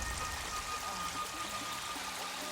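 Water pours and splashes steadily outdoors during washing up in a survival setting, a continuous broadband rush with no pauses and no talking.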